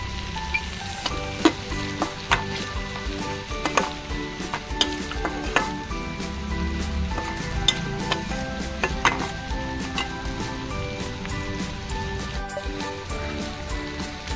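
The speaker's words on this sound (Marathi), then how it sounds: "हिरवी मिरची मी क्रश केली, तिला चांगले आपण परतून घेऊ।" Crushed green chilies frying in a pan, a steady crackling sizzle with scattered pops and occasional stirring scrapes, close and continuous without talk.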